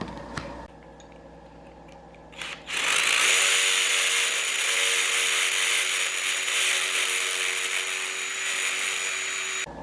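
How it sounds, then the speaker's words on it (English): A power drill bores out a circle in a D16 oil pump being modified for a 500 hp build, starting after a few seconds of quiet handling. It then whines steadily at close range for the rest of the stretch, with no talk. "I'm going to go ahead and drill out this circle so that way we can make it fit"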